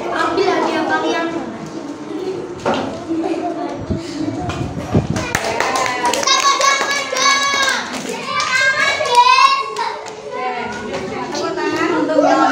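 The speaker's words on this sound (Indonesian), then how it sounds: "Tepuk tangan untuk kelompok 5 ya" A classroom of students claps for a presenting group, scattered uneven hand claps mixed with children's chatter and talking throughout.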